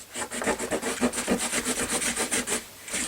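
Paper being folded and creased for a file folder mini scrapbook album, a quick series of about a dozen rhythmic scraping rubs, close and soft.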